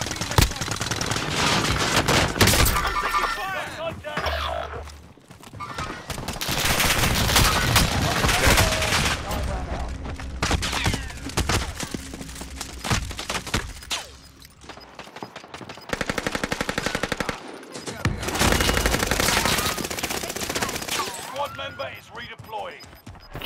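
Gunfire in Call of Duty: Modern Warfare, long loud bursts of rapid automatic shots with short gaps between volleys, under a voice talking.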